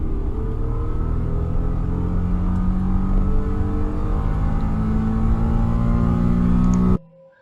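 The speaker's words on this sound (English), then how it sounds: "This engine goes to very high RPM." V6 car engine howls continuously at very high RPM, a loud, steady harmonic scream with slowly rising pitch that cuts off abruptly near the end.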